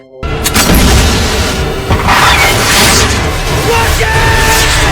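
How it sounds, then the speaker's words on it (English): A loud, close explosion booms and rolls into a long, sustained rumbling roar. "the explosion ripped through the air."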